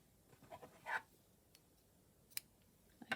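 Small scissors snip through sashiko embroidery thread in a quiet room, a few soft, close-up clicks and rustles spread across a few seconds.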